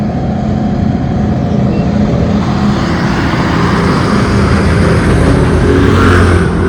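A vehicle engine runs loud and steady, a dense, constant roar close by that holds level throughout without pauses or voices.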